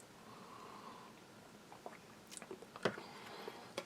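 Crunchy food from a Polish police 24-hour field ration being chewed close up, with a run of sharp crisp bites and crunches over quiet room noise.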